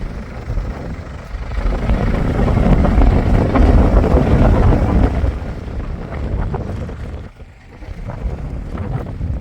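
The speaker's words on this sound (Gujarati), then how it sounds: "ટાઢો બોર પવન ભાઈ" Strong, cold wind roars across a farm field and buffets the microphone, a heavy rumbling gust that surges for several seconds, then eases and swells again.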